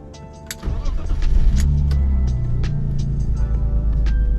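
A BMW E36 328i with the M52 straight-six idles steadily at close range during radiator coolant bleeding. The engine catches and settles into a loud, even low rumble, with a few light clicks and knocks over it.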